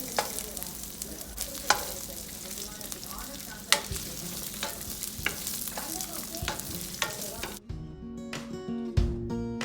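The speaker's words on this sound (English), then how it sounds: "Just saute them till the onions are translucent." Chopped onions sauté in a pan with a continuous sizzle, punctuated by periodic clacks and scrapes of stirring, ending in a few sharper knocks against the pan.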